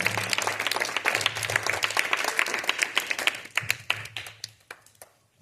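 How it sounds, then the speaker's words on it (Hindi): A quiz audience breaks into dense, lively applause for a contestant, loud and full at first, then thinning into separate, distinct claps that taper off over several seconds. "जोरदार तालियों के साथ इनका हौसला अफजाई करें"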